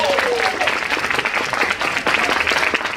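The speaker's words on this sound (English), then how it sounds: "So give them a round of applause." Loud audience applause at a youth poetry slam, a dense continuous roll of clapping with a few brief whoops near the start, close and sustained throughout.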